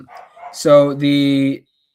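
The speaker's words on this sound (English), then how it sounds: "hear some dogs on your end too" A single dog barks once sharply and then draws out a longer yelping whine, close and loud, with faint speech just before it.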